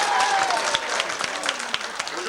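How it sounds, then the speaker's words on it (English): Audience applause rings out for a trimmed-beard contestant at a 1989 country jubilee, a steady crowd of hand claps with a faint voice underneath. "Can we have a big hand, please?"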